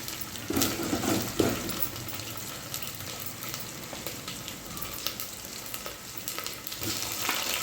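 Tiger prawns dropped into a pan of sizzling red masala, a loud, continuous frying hiss with stirring and a few splashy bursts near the start, close and without talk.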